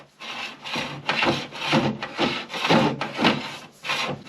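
Metal chimney sweeping rods are screwed together by hand, making a rhythmic series of close gritty rubbing and scraping strokes, about eight in a row, with no talk.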